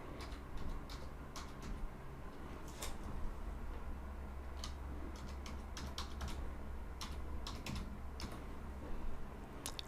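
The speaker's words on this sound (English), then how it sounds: "now here's where I can type in my email" An email address is being typed on a computer keyboard: soft, quiet key clicks in uneven bursts against a faint hum, with no talking.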